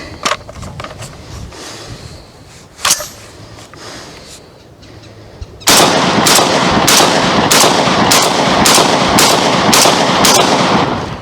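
A 12-gauge shotgun fed from a 20-round drum magazine fires a loud series of about ten evenly spaced blasts after a few scattered, quieter shots, all close and outdoors, with no talking.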